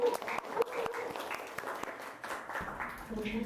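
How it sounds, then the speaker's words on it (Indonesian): Students in a classroom clap briefly for a classmate's answer during a teaching session, scattered sharp hand claps mixed with voices talking over them. "Terima kasih, tepuk tangan."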